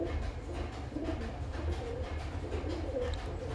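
A female Giribaz high flying pigeon cooing close by in soft low repeated murmurs, set against a steady rumbling background hum, with no one speaking.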